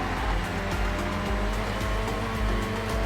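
An older, very grippy car in the Forza racing game takes a corner, its engine droning loudly and continuously with rising and falling revs and a hint of tire noise, no talking.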